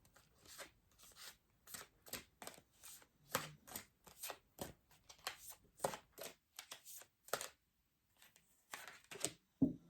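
Giant tarot cards shuffled by hand, a rapid series of crisp riffling and slapping bursts with short pauses between them, close and fairly quiet.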